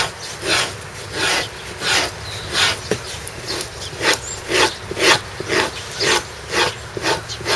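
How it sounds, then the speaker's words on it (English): An animal hide already treated with calcium hydroxide is scraped during graining, giving rhythmic raspy strokes about every half second, close and moderately loud, with no voices. "you're going to turn the hide and work it several different directions as you're scraping anyway"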